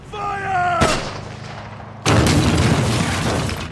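Two sharp, loud blasts of gunfire about a second apart, the second followed by a sustained roaring rumble, from a World War II combat scene with a grenade launcher firing on a machine gun position.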